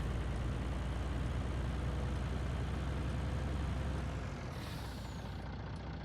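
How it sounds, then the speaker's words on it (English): Heavy grain truck in Farming Simulator 19 idling with a steady low engine drone and dense broadband rumble, dropping slightly near the end, with no talk. "truck full of grain here."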